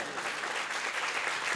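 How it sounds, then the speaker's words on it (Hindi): A crowd at a Jain temple head-anointing ceremony claps in welcome, a continuous even patter of many hands at moderate, slightly distant level with no talk over it. "इनका तालियां बजा के स्वागत"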